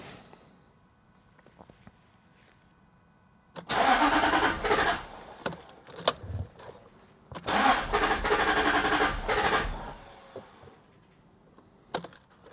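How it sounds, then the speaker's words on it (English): A Jaguar XK8 with many faults cranks in two long bursts of about two seconds each, loud and close, with short clicks and quiet gaps between and after the attempts. "Right, I'm going to start the engine."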